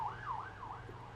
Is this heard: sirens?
yes